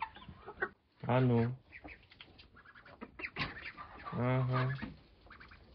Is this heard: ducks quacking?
yes